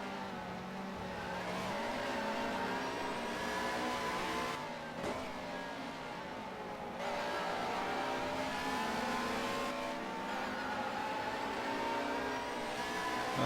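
Touring cars racing at Brands Hatch in the 1996 BTCC, a pack of engines revving hard and roaring past in close succession, with shifting pitch and steady loud drive.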